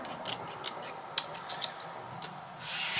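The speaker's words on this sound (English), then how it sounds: "And then you can keep cutting if you just feel like it needs to be cut more" Scissors snip through cardstock while a layered paper bow is being shaped, giving several short crisp cuts in an uneven rhythm, close and fairly quiet, with a louder rustle at the end.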